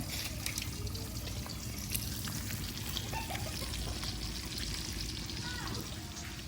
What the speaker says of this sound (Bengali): আর এদিকে পাবদা মাছ ভাজা হইতেছে